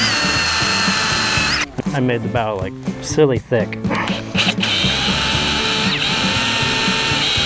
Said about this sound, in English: Let's drill holes in our boat.